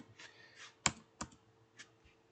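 Typing on a computer keyboard in an office, with a few soft key clicks and one sharper, louder press like the Enter key, quiet and close.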